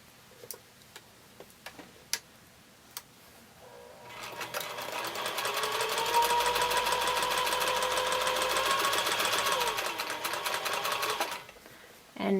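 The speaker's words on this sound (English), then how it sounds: "we can stitch our top 2 rows together and then add our bottom row to finish up our block" A sewing machine stitches rows of a quilt block together, running in a fast, steady mechanical patter for about seven seconds after a few soft taps and clicks of handling.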